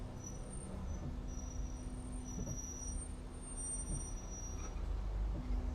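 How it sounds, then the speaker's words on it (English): A truck rumbles past outside, its low engine drone steady and muffled at a distance, with a faint hiss and high squeal as air brakes release near the end. "I hear a truck outside"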